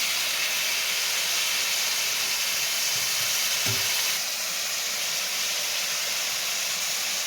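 Spices fry lightly in a pan, giving a steady, bright sizzling hiss that runs unbroken from start to finish, close and moderately loud, with a brief low knock partway through.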